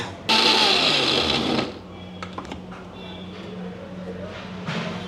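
A kitchen mixer grinder whirs as it grinds a paste loosened with a little coconut oil, a loud, close motor roar running for a second or so before cutting off, leaving faint clatter and room noise.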